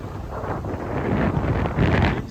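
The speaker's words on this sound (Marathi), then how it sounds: "आणि वाऱ्याचा आवाज तुम्हाला येत असेल" Strong wind at the seashore during a storm, gusts buffeting the microphone in uneven surges of low rumbling noise that swell louder toward the end.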